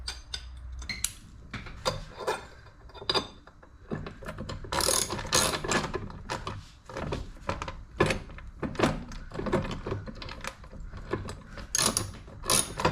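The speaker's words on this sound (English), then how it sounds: "I'm gonna get my socket since I'm here, and I am gonna ratchet these things" Socket ratchet clicking in repeated bursts while tightening bolts on Mabett mud flaps, close and fairly loud, with a few dull thunks between strokes.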